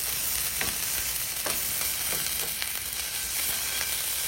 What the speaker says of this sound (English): add some tomato paste here and just fry it just a little bit